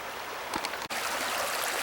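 A woodland creek with a big fallen tree lying across its middle, its water rushing in a steady, close broadband wash that continues without a break.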